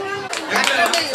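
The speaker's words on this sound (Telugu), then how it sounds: "వాళ్ళకి చప్పట్లు కొట్టుకున్నాం." An audience claps together at a Sankranti muggulu (rangoli) contest in Neelampalem, a dense burst of applause rising quickly and holding steady, with a voice speaking over it.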